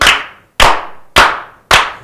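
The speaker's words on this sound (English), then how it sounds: "May we please slow clap this beautiful queen?" Four slow, evenly spaced claps, each a sharp loud smack with a short decaying tail, about half a second apart, with no talk over them.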